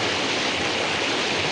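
Water rushes without a break through a village irrigation channel in Sangulwadi, Konkan, an even, full stream of splashing flow up close with nothing else audible.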